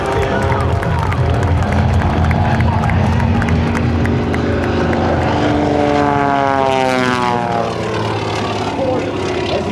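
A propeller aerobatic airplane flies a hesitation roll at the 2009 AirPower Over Hampton Roads airshow. Its loud, steady engine drone shifts in pitch as it maneuvers, under an announcer's voice and a murmuring crowd.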